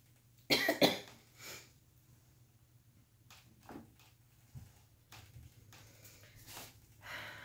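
A person coughs in a sharp, close burst of two or three coughs near the start, followed by quieter rustling and a few faint throat sounds and shuffles against a low steady hum.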